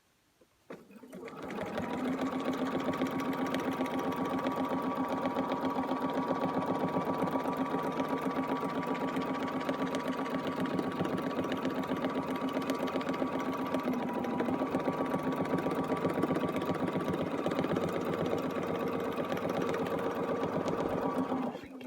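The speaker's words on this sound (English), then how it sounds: "I have my speed on my sewing machine. I have it on a medium fast." A sewing machine starts up and stitches continuously at a brisk, even pace, a close, steady mechanical whir with rapid rhythmic chatter throughout.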